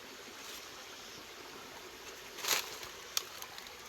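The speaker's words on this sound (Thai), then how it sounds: "แม่น้ำสายน้อย" A small clear forest stream near a hammock campsite flows with a soft, faint, steady trickle, broken by a couple of brief splashy bursts near the end.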